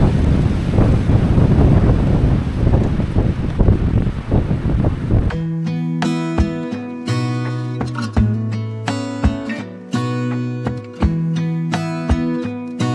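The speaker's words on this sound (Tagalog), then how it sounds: "Tingnan nyo yung hangin." Strong cold wind gusts across a mountain campsite in Bokod, Benguet, roaring as a loud, steady broadband rush for about five seconds before music with a regular beat abruptly replaces it.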